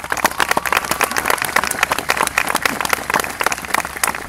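Audience applause at a university honorary doctorate ceremony: dense, sustained clapping from a large crowd, loud and even throughout.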